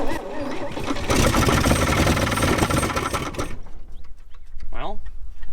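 A 1962 Chevrolet Impala engine that sat for over 25 years in a junkyard fires on points and starter switch: a loud, rough burst of combustion runs for about two and a half seconds, then cuts out as voices talk close by.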